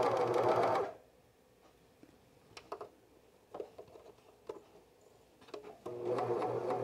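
A cover stitch sewing machine runs loudly for about a second, goes quiet apart from scattered small clicks and taps, then starts running again near the end.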